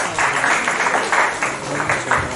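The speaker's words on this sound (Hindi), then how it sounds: "तालियों की गड़गड़ाहट कम नहीं होनी चाहिए।" Audience applause at a national summit on holistic sciences and wellness, a steady wash of many hands clapping in pulsing swells, fairly close and continuous.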